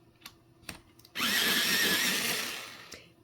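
After a few faint taps, an electric pencil sharpener grinds a colored pencil in one loud whirring burst lasting about two seconds, then fades. The sound is close and there is no talk.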